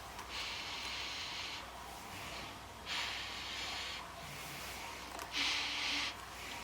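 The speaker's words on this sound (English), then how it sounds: "Let's do a sniff test." Three close, breathy sniffs at a leather steering wheel, each a drawn-out inhale through the nose, separated by short pauses in a quiet room.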